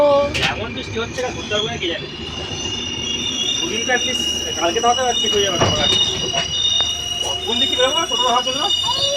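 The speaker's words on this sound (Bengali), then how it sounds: "এটা আমাদেরই ট্রেন, আর কিছু মানে কারোর ট্রেন না" A passenger train on the way to Bankura rolls along the rails with a steady rumble and repeated high wheel squeals, while people talk over it throughout.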